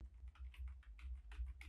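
Quiet, close-up clatter of fingers typing code on a computer keyboard, a quick irregular run of soft key taps with no voices.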